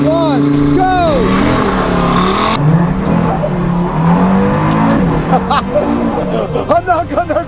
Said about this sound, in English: traction off, and we've got to do launch control